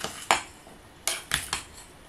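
Cutlery scrapes and clinks against a bowl while a pasta salad with tomatoes is stirred, four sharp separate strikes with quiet pauses between them and no voices.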